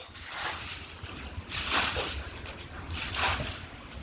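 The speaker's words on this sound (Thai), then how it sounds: "ดูสีน้ำไหลเต็มเลย" Water pouring and splashing during Songkran water play, a steady rushing wash that swells in a few broad surges over a low rumble, with no voices.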